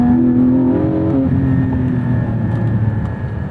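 A Porsche 718 Spyder engine pulls in second gear, a loud, close, smooth rising drone with a slight pitch step partway through before it settles into a sustained cruise.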